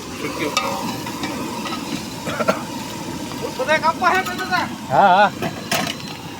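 A vaghar tempering for a dry vegetable dish sizzles in hot oil, a steady hiss with a few sharp crackles, partly masked by several people talking and calling out nearby.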